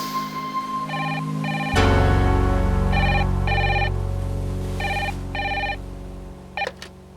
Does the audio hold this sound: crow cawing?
no